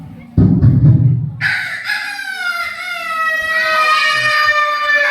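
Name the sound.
rooster crowing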